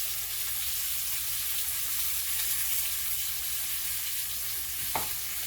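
Tuna steak searing in a hot pan, a steady close broadband sizzle running throughout with one brief sharper crackle near the end.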